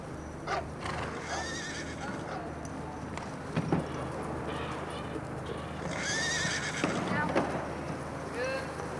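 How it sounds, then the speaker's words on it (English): Horses whinny several times at moderate distance, with hooves clopping over steady outdoor background noise and faint voices. "Horses. Ponies."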